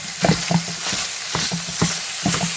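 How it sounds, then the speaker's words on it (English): Browned sausage sizzles in a pan as a meat chopper tool scrapes and breaks it into fine chunks, with steady frying hiss under a series of rhythmic knocking strokes, close and moderately loud. "My sausage is now all brown, and I'm using my handy dandy little meat thingy here, and it's to get it into little fine chunks."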